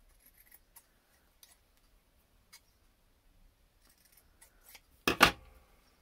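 Scissors trim a sewn fabric bias strip in a quiet room, with a few faint snips early on and then a louder, close double cut near the end.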